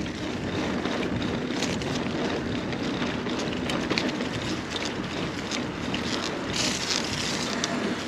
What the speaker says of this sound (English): It's always very windy down here.